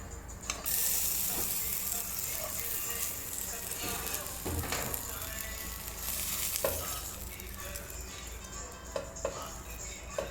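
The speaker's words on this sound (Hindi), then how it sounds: "हमने 2 जो है वो हरी इलायची और 2 लौंगे डाल दिए हैं घी में" Green cardamom pods and cloves sizzling in ghee for makhandi halwa: a continuous crackling fry with stirring clatter and occasional sharp pops, steady and close throughout.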